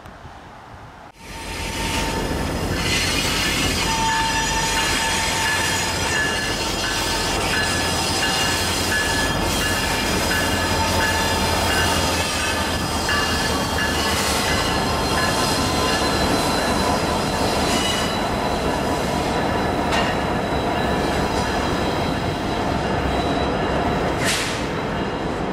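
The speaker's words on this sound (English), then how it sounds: "Train 36T came down the line" A freight train rolls past close by, loud and continuous after a sudden onset, with steady wheel rumble, clattering cars and occasional high squeals of wheels.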